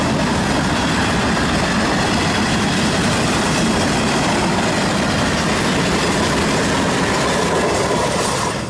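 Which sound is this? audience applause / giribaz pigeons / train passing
train passing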